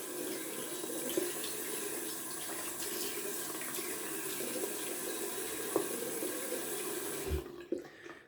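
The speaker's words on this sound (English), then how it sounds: "Cold water on the face." Cold water runs steadily from a bathroom tap into a sink, then is splashed onto a face near the end with a few short, close splashes.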